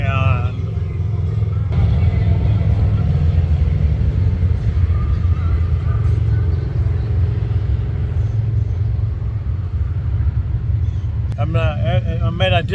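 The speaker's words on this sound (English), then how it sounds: "I get to sit here and watch the bikes go by and listen to them go by" Motorcycles ride past on the Spearfish Canyon road during the Sturgis rally, a steady loud engine rumble that fills the whole stretch without letup, with what may be a brief voice near the end.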